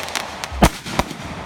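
Fireworks at a 2018 Grayson show: a few sharp bangs and crackling pops, one loud burst standing out from smaller snaps against a noisy background.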